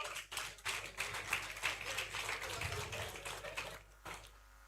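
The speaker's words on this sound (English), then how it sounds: "Please clap for Paul Annan" Audience clapping at a business forum awards presentation, quiet and somewhat distant scattered claps with a tapping rhythm that thin out toward the end.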